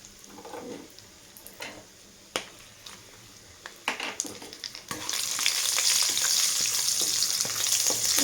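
Green chillies and biryani spices frying in a pan, starting with scattered crackles and stirring taps, then bursting into a loud, steady sizzle for the second half of the clip.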